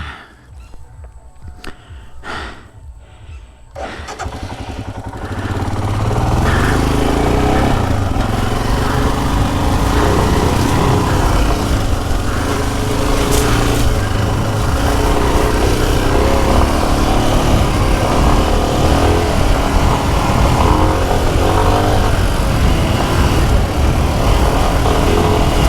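A motorcycle with upgraded suspension rides urban trails. After a few quiet seconds with light knocks, the engine takes over as a loud, continuous close roar with rough throttle changes.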